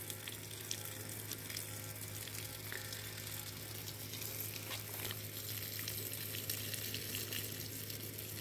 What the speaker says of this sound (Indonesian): Kita harus disiram duriannya.